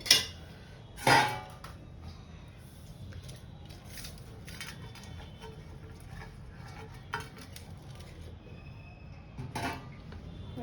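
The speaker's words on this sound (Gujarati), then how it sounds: "હવે આપણે જે ઢોકળા મૂકવા છે એ પ્લેટ લઈ લેશું. એમાં આપણે તેલ ગ્રીસ કરી લેશું." Dhokla plate handled and greased with oil: a couple of sharp metallic clinks and scrapes of a steel plate near the start, then softer handling clatter and light rubbing, with a few more clinks toward the end, no voice.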